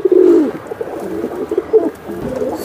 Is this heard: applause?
no